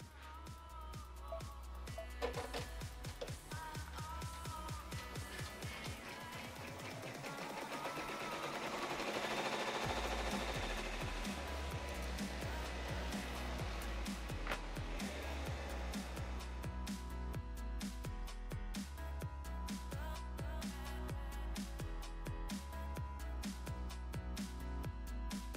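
A Brother PR1055X ten-needle embroidery machine stitches steadily for about twenty-five seconds, a dense, continuous mechanical whir with rapid needle ticking. The drone swells slightly partway through and stays loud and close, with no talking over it.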